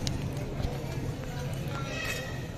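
Horses stand lined up at the Tolo horse market. Faint hoof clatter and stamping mix with a busy background of voices and market noise throughout.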